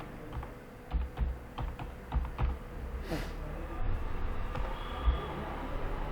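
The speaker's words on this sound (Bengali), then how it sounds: "এবারে ট্যাব মারবো, রেস্টুরেন্ট গুলোর নাম লিখে দেবো" Fingers type on a computer keyboard while entering restaurant names in a word processor: irregular bursts of close, crisp key clicks with brief pauses, fairly quiet, no talking.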